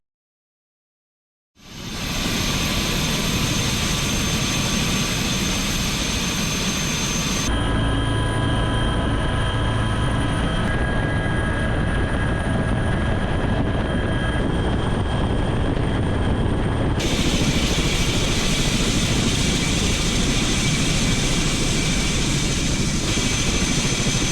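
Air force helicopter during a rescue operation, a loud, steady, close rotor and engine roar that starts abruptly and runs continuously, with no speech.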